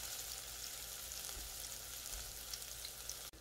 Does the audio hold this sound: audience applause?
no